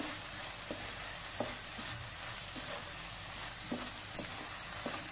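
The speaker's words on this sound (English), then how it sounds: "we will fry this for 2 to 3 minutes so that the masala gets nicely cooked" Potato chop masala with Kashmiri chili powder, turmeric and salt sizzles steadily in a pan while a spoon scrapes and stirs it in irregular soft strokes, close up and with no voices.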